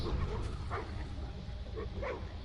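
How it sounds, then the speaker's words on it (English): Dogs bark and yip in the video game Assassin's Creed III Remastered near a coastline, with several short barks and whimpers over a constant game soundscape. "I think they're dogs, aren't they?"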